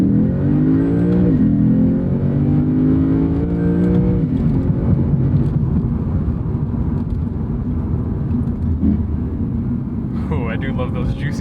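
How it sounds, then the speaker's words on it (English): A 2015 Lexus RC F engine pulls hard under acceleration, its revs rising loud and close through several gears with blips on the downshifts, while someone talks over the engine. "I do love those juicy downshifts though"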